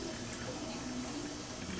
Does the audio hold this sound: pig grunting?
no